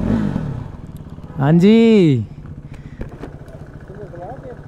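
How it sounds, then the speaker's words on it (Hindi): A KTM RC 390 motorcycle idling near a Dharamsala viewpoint, its engine thumping steadily, with one quick rev that swells and drops back. Someone talks over the engine. "इतना स्मूथ इंजन हो रखा है ना भाई इस बाइक का"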